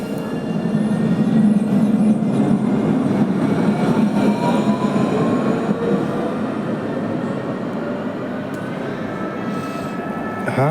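A Montpellier TAM line 3 tram arrives at Gambetta Chaptal station with a loud, steady rumble of wheels and motors and faint squealing tones, heard up close throughout.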